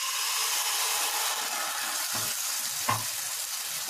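Rava (sooji) uttapam batter hitting oil on a hot pan, giving a steady, loud hiss of frying that fills the clip, with a couple of soft dull knocks of utensil contact partway through; no talking.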